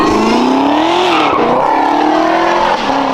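A supercharged Chevrolet Camaro ZL1 with a DSX supercharger lid pulls hard out in open country, its loud, close exhaust roaring and blower whine rising steadily through the gears, with brief dips at the shifts.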